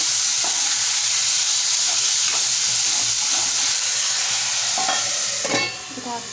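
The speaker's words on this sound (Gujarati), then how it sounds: "હવે આપણે મૂગ નાખી દઈશું। આપણે એને હવે હલાવી દઈશું।" Moong stirred in a hot pan gives a loud steady sizzle with occasional scraping strokes, ending in a brief clatter near the close, with no talking.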